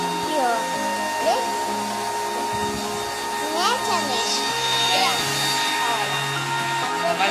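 A hair dryer blows steadily while drying hair, a close, continuous whooshing roar that rises and falls slightly as it moves, with a voice talking over it at times.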